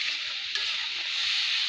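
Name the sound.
chili powder and spices frying in a pan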